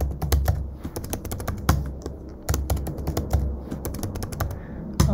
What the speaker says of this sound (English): Now I will be entering the command to change the password, and I will now put the new password.